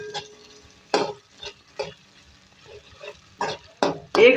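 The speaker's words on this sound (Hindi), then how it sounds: "इसको फ्राई करेंगे और प्याज को भी अभी सॉफ्ट करेंगे।" Onions fry with garlic-ginger paste in a pan for a potato and cauliflower curry, with faint sizzling and scattered scraping, clicking stirs of a spoon against the pan.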